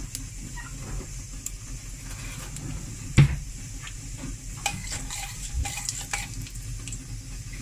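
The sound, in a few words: curry leaves and urad dal frying in oil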